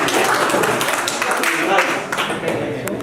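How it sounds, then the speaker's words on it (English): Children clap together in a school setting after lunch, a dense patter of hand claps lasting several seconds, with voices mixed in. "Clap for the lunch."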